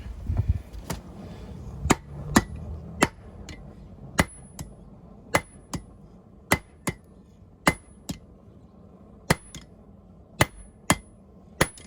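A hammer strikes a stainless steel camp knife blank at a forge to flatten it, ringing metallic blows landing one at a time in an uneven rhythm, bright and close, with a faint background hum between hits.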